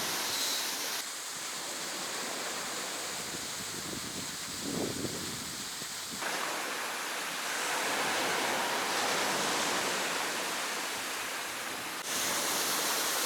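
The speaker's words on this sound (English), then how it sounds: "The waves seem really powerful." Powerful ocean waves crash and surge on the Oregon coast, a loud, continuous roar of surf with swelling and fading bursts, no voices.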